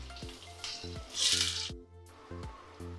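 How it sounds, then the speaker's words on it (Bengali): Potato pieces drop into hot oil already seasoned with black cumin seeds for a Bengali fish curry, giving a sudden loud sizzle burst over steady frying crackle and regular taps of a stirring spoon against the pan. "এবার আলুটা দিয়ে দিচ্ছি।"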